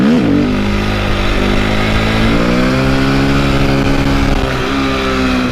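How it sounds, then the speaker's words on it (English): A KTM 250 dirt bike engine revs hard for a clutch-up wheelie, a loud, close, continuous snarl that climbs and holds high pitch, dips briefly, then surges again. "it's going to be clutch in over here, throttle, and then drop the clutch"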